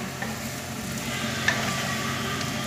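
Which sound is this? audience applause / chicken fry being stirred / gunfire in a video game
chicken fry being stirred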